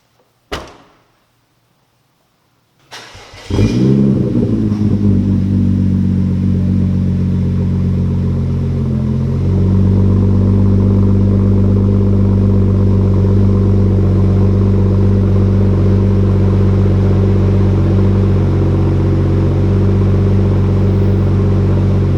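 An Audi A3 engine fires up after a quiet pause, then settles into a loud, steady idle with a deep low rumble, rising briefly in a rev before holding a sustained drone to the end.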